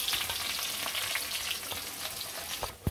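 Sliced onions fry in hot oil in a pan, a steady close hiss and sizzle with faint scraping stirs, ending in a brief louder knock.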